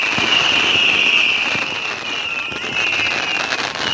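Fireworks on bonfire night crackle and hiss continuously amid a dense outdoor din, with a sustained whistling streak running through the loud, unbroken burst.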